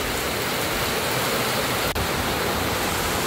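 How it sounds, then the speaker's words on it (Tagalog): Heavy rainy-season downpour in a provincial house, heard as a constant loud hiss and roar with no let-up and no voices. "ganyang kalakas guys ang ulan dito ngayon"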